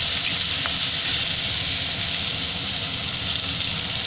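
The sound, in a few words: onions and red chili frying in a pan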